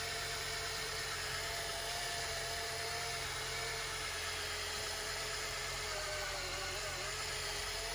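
A cordless drill with a polishing attachment whines steadily and continuously while buffing the plastic gauge cluster lens of a Chevy truck, a constant close motor drone with no pauses.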